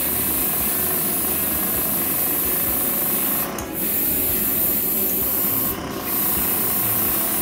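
A steady, close hiss of an airbrush with a 0.3 mm nozzle spraying clear coat nearly wide open on a 1/9 scale Kawasaki Ninja H2R model kit, continuous and even, with two brief dips where the spray pauses.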